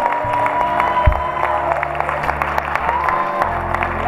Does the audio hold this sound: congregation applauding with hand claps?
yes